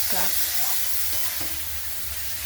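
A spiced onion-garlic masala sautés in a pan, giving a loud, continuous sizzling hiss with faint scraping and stirring sounds.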